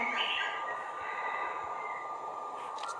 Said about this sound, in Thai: เป็นรถไฟผมนะครับ